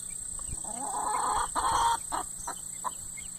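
Chickens cluck nearby in a run of short, fairly loud calls, several in quick succession, against a steady background hum.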